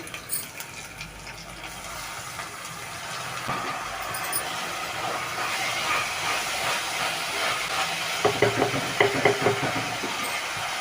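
Ginger, garlic and tomatoes sauté in a pan for an egg thokku, a continuous close hiss and crackle that grows busier partway through, with scraping and stirring clatters near the end.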